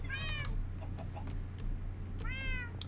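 A Minecraft cat meows twice, once at the start and again near the end, each a short, clear, mid-loud mew over a low steady background hum.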